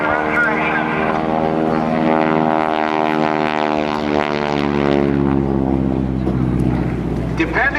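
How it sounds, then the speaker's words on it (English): A Texan propeller airplane flying at the 2010 NAS Oceana Airshow gives a loud, sustained engine drone whose pitch slides gradually downward as it passes and recedes. "this Texan airplane, and he restored this aircraft all by himself."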